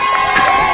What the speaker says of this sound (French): Ça pourrait applaudir un peu plus là-haut.